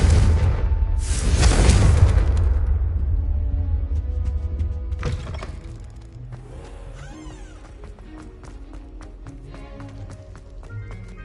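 A Confringo fire spell bursts into a loud, rumbling explosion in Hogwarts Legacy, decaying over a few seconds into quieter crackling, tapping and scattered impacts.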